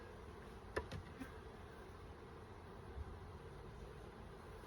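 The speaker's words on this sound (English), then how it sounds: "lots of bees" A low, steady buzz of honey bees around a hive during inspection fills the air, with a couple of brief knocks and clicks standing out near the start.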